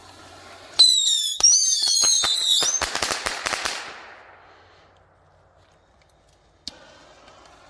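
A launch pad fires a volley of 144 bottle rockets: sharp whistling shrieks and rapid crackling pops in a dense burst that thins out and fades, followed by near silence and one last faint pop.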